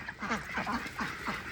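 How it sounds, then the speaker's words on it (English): Peking ducks on a farm give a run of nasal quacks and honks in a steady series of calls at close range, with no talk over them. "Come out onto the sun, guys, so we can see your color. Peking ducks."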